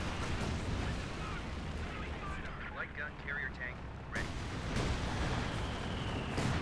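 Artillery barrage and explosions in a Company of Heroes 2 battle on the Port of Hamburg map, a dense, continuous rumble of booms and blasts with a brief lull midway, lasting throughout.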